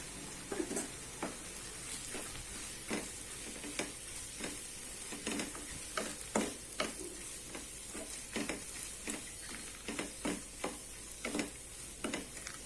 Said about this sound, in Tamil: இது 1 நிமிஷம் வதங்கட்டும்.